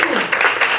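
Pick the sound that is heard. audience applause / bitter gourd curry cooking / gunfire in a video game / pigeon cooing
audience applause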